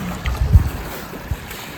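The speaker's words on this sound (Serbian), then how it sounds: "Samo da vam snimim vodu." Sea water at a deserted wild beach on Korčula, a low, steady wash of gentle waves mixed with buffeting wind on the microphone, one brief swell rising near the middle, heard up close with no talking.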